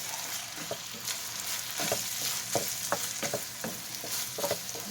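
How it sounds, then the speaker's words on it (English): A spoon stirs stuffed bell pepper filling in a pan, giving soft irregular scraping and clinking strokes over a faint steady sizzle, quiet and close. "I'm just going to get this all mixed up."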